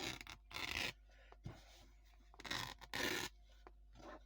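Fabric torn apart by hand while making a butterfly junk journal cover: several quick, raspy ripping bursts at close range, two longer tears and a few shorter ones, with brief quiet gaps between them.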